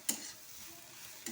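Semolina frying dry in a pan gives a faint, steady sizzle, with two sharp scrapes of a spoon stirring against the pan at the start and end.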